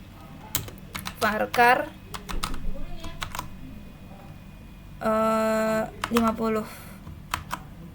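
Computer keyboard typing while building a database table, with scattered clicks and short bursts of keystrokes mixed with someone talking in Indonesian, plus a sustained buzzy tone in the middle.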